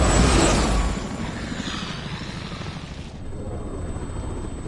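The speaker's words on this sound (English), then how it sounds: "We're in the helicopter, July 1st, 2013, Tachi, China." Helicopter flight in the video game Resident Evil 6, set in China: a steady, loud rotor-and-engine rumble with broadband whooshing noise, slightly heavier at the start, then holding level throughout with no talking.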